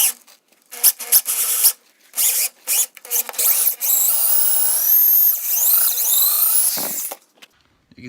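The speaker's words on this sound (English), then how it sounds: "now I'm going to be drilling right here where this clamp is" A power drill bores a hole through a wooden queen-size bed frame: short trigger bursts at first, then a sustained, loud whine that rises in pitch as the bit cuts through the wood, ending abruptly.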